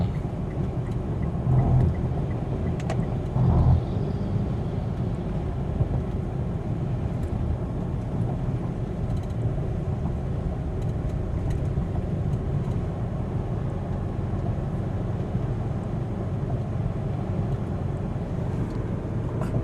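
A 2015 Mitsubishi Pajero accelerates on the road, heard from inside the cabin as a steady, loud, low engine and road drone that holds evenly throughout, with a couple of brief knocks early on.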